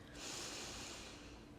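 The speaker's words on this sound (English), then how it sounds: "breathe in through the nose" A single slow breath drawn in through the nose during a meditation exercise, close and quiet, a soft steady airy rush lasting over a second with no talking.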